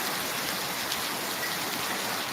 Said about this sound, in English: Spanish streets deluged once again.